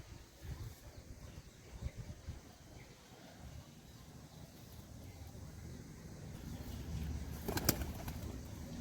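Domestic pigeons, including a red one feeding, coo softly in a quiet loft, low murmuring calls that come and go, faint and close, with a brief louder rustle near the end.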